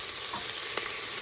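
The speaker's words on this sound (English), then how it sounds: "So we took a whole onion, like a Vidalia onion, and we cut it. And so now we're sauteing that." Chopped Vidalia onion sautéing in a pan gives a steady, close hiss of frying, with a couple of faint scrapes from stirring across the short stretch.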